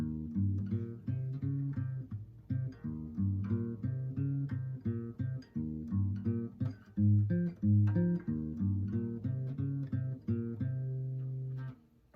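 A plucked guitar picks out a melody across two strings, single notes in a steady rhythm, clear and close with no voices.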